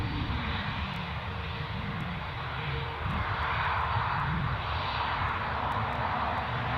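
An easyJet flight from Belfast arriving at Newcastle Airport makes a constant, full-bodied jet roar that holds loud and even throughout.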